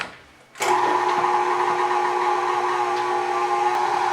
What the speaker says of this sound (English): Then we're just going to mix that until our sugar is moistened.